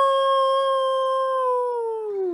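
Voices imitate a wolf howling at the moon during a Halloween song at a children's concert: one long, sustained, clear howl that slides downward at the end, loud and close.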